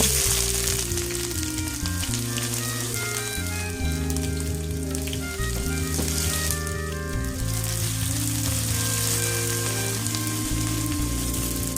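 Sliced onions frying in hot oil until golden for malai kofta curry, a continuous sizzle running beneath prominent background music throughout.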